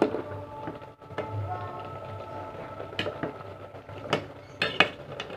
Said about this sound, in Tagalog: Tapos hahaluin natin.